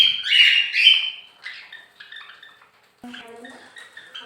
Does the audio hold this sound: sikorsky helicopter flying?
no